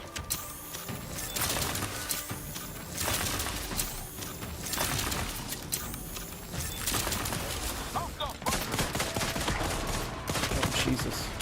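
Gunfire in the Outer Worlds 2 video game, a series of sharp shots and bursts spaced a second or two apart amid a cluttered background.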